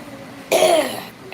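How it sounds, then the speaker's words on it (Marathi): A single close, loud cough bursts out and trails off over about half a second, followed by a faint breath. "खोकला येतोय खोकला"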